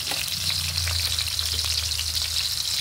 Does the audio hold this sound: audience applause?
no